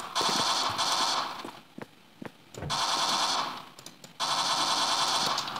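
Automatic gunfire from a gun in the video game Codename Core rattles out in three long, sustained bursts separated by brief gaps with a few scattered single shots, loud and with no talking over it.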